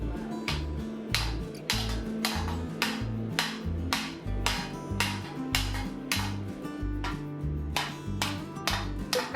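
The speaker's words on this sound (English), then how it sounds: "I'm hammering the piece of steel into the pocket of air that's underneath" Steel being hammered over a stake while forging a Mandalorian armor shoulder piece, a steady run of sharp ringing metallic blows in an even rhythm, close and loud, with no talk.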